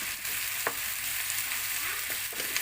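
Steady hiss of vermicelli noodles (pancit bihon) frying in a pan with vegetables, with a few soft scraping stir strokes close by throughout.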